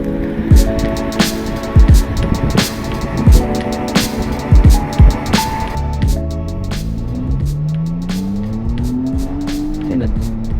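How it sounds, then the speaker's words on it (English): A high-end performance car's engine roars on a city drive, loud and close, with sharp repeated revving bursts, then a long rising pull through the gears, with a little talk mixed in. "the engine just starts to roar"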